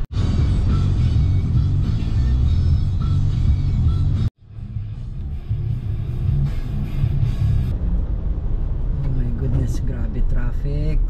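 Stop-and-go road traffic in Cebu, with a steady low rumble of cars and buses idling and creeping along nearby, broken by a brief cut, and people talking over the engine noise.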